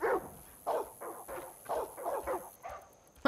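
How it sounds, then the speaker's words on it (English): Dogs barking repeatedly inside the Far Cry 5 video game, a series of about seven or eight loud, close barks in an uneven rhythm with short gaps between them and no talk over them. "this barking's annoying right now"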